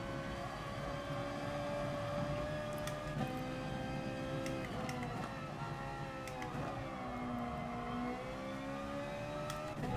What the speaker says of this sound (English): Really ringing out the Ferrari here.